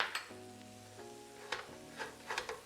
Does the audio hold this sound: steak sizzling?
yes